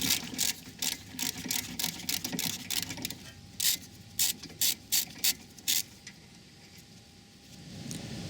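Rapid bursts of close ratchet clicking loosen a seized rear brake caliper bolt, coming in quick repeated pulls that turn into short separate clicks before fading out.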